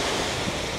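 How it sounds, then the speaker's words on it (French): Ocean waves at a beach wash in a brief, loud, broadband roar mixed with wind buffeting the microphone, heard close and alone. "Les vagues de partout, là, c'est pas agréable du tout."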